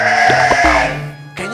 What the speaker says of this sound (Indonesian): Itu ada kambing